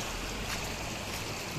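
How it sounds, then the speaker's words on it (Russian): The Bolshoy Uslagan river flows at a confluence with a steady broadband rush of moving water, continuous and moderately near, with no talking. "Здесь слева приходит река Большой Услаган."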